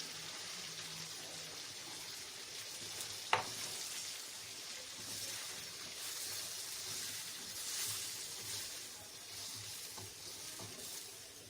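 Browned chicken sizzling steadily in a pan while tomato paste goes in, with a constant close frying hiss, one sharp clink partway through and faint stirring scrapes.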